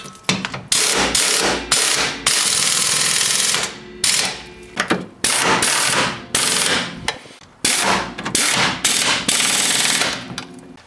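Ratchet cranking rapidly in repeated bursts to tighten a suspension through bolt on a vehicle, loud close clicking runs separated by short pauses as the handle resets.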